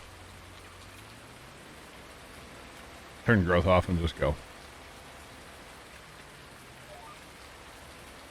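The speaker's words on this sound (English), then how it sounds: "you guys care if we fast time through the rain?" Steady soft rain hiss from the video game Farming Simulator 19 runs throughout, with a brief burst of a person speaking in the middle.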